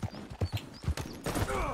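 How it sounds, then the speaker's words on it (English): Horse hooves clip-clop in a quick, uneven rhythm in the open-world game Red Dead 2, close and fairly loud, with a faint whinny near the end. "There's a horse over there."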